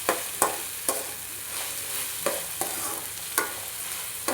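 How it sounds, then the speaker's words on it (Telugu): Ginger garlic paste frying for a crab curry, a steady close sizzle broken by sharp scraping stirs of a spatula at irregular intervals, no voices. "అది పచ్చివాసన పోయేదాకా బాగా వేయించుకోవాలి"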